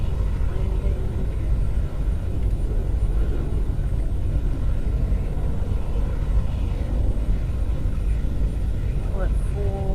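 Airplane engine in a flight video game, droning as a steady loud low rumble throughout while descending toward a landing, with a few faint higher tones near the end.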